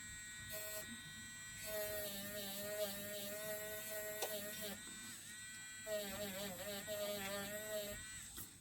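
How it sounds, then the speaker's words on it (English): Small spinning rubber eraser tool buzzing against a foiled card to remove excess foil, a quiet thin electric whine that starts and stops in bursts, with its pitch wavering as it is pressed. "Now this has got a rubber that spins, and it's just a neat, really easy way of removing overfoiling."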